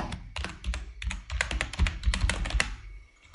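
Rapid typing on a computer keyboard, with quick irregular clicks and taps close to the microphone, running continuously and then trailing off at the end.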